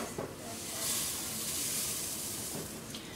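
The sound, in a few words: Rice Krispies cereal poured into melted marshmallows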